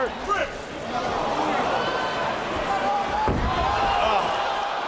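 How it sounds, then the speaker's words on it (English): A UFC fighter is slammed onto the mat, a single heavy thud rising briefly out of steady arena crowd noise while a commentator talks throughout. "Now look at this slam."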